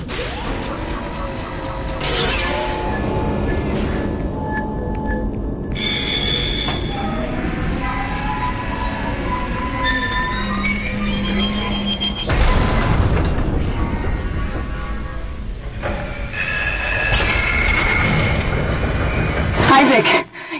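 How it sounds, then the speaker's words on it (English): Rumbling tram noise on tracks in the Dead Space PlayStation demake, a loud sustained mechanical roar with screeching tones and heavy booms, mixed with game sound effects and a voice speaking over parts of it. "The tram is blocking the whole system."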